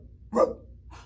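A single short dog bark, close and fairly loud, followed by a softer breathy trailing sound, with no talking.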